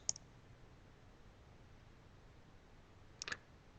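Computer mouse clicks sound faintly in a quiet room: a single tap, a long pause, then a quick double click.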